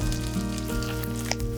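Pork belly laid skin-down onto a bed of scallion and ginger in a hot pan sizzles and hisses steadily, a dense close frying crackle with a few brief pops and no talking.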